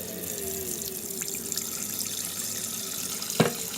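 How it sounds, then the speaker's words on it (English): Cold tap water runs into a kitchen sink while raw chicken is rinsed, a steady close splashing rush with a brief louder clatter near the end and no talking. "And clean it in cold water,"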